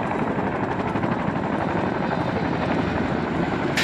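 Helicopter rotor and engine roar during air assault training, a loud, steady broadband thrum with continuous chop filling the whole stretch, close by and without speech.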